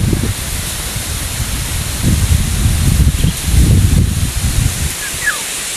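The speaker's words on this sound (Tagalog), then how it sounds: "masyadong mahangin." Strong wind gusting through low grass and leaves outdoors, a loud continuous rushing roar with surging gusts, heard alone.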